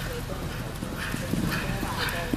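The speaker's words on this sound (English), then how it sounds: "Trot your ponies. Trot." Welsh ponies trotting at a pony and cob judging event, hooves clip-clopping in a steady rhythm at moderate distance amid a busy, noisy showground background with voices nearby.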